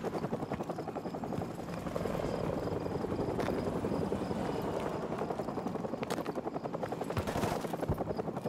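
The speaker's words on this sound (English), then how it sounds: "grab a Stinger and take out that chopper" A chopper in the Call of Duty 4 Remastered game, with rapid rhythmic rotor chopping that holds steady throughout, joined by a few sharp bangs near the end.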